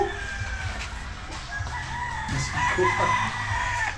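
Several chickens cluck and crow nearby, overlapping calls over a busy farmyard background, moderately loud and continuous.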